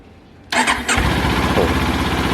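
A 2019 Kawasaki Ninja 400 motorcycle engine cranks and catches, then settles into a steady, close rumbling idle.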